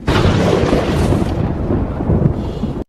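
Thunder in the horror film The Wailing (2016), a loud close crack that rolls straight into a heavy rumble and then cuts off abruptly.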